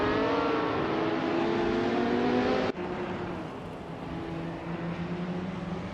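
A Porsche 917 LH race car in a racing video game drones with a loud, steady high-revving engine note that drops abruptly partway through, as if shifting gear, then carries on slightly lower, with no voices.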